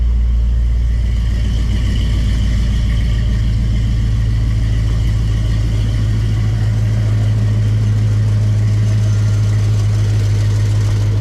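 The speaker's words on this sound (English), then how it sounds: "Turn our AC on, full blast, hit our button." A 1946 Chevy C-10 truck with its AC running full blast, a loud steady low engine drone and blower hum continuing unchanged throughout.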